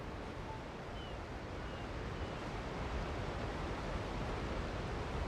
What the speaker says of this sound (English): I like how the noise from the waterfall is coming into range